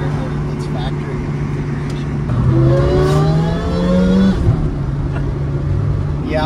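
A supercharged Toyota Celica GT-S engine rises in pitch as it accelerates through a gear from inside the cabin, then drops as the next gear engages, with people talking over it.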